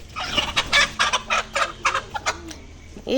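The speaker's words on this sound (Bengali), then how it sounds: "দেখো সকালবেলা মুরগি ছেড়ে দিল" Hens let out in the morning at a rural village home cluck in a rapid run of close, fairly loud bursts, with a brief squawk near the end.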